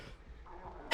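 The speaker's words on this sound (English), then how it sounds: "Sorry, I just sneeze." A single sharp sneeze bursts out at the very end, close and loud after a low murmur of background noise.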